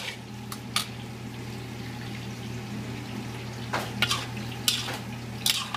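Pansit bihon noodles stirred in a pan with tongs over a steady stove hum: soft, close scrapes and a few light clinks scattered through the clip.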